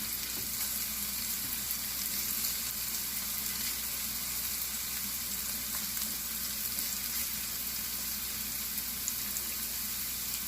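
Continuous loud sizzle of ground meat sautéing in a pan for a tortang giniling, steady crackling frying with no pauses.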